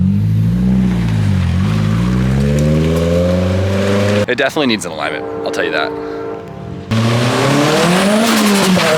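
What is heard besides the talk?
turbocharged Nissan SR20DE car revving and accelerating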